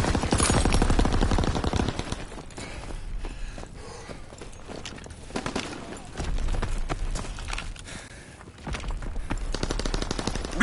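Rapid machine-gun bursts and single rifle shots from a World War II video game, loud and near, the firing easing midway then picking back up, with occasional voices mixed into the battle noise.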